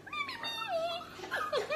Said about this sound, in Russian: Ой, собака прибежала.